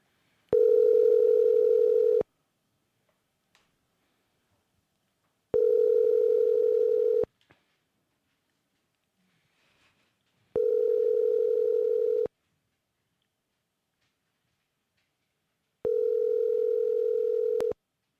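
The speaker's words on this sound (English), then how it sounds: "We're ringing." Outgoing phone call ringback tone, four long steady buzzing tones of about two seconds each separated by silent gaps of roughly three seconds, clear and alone.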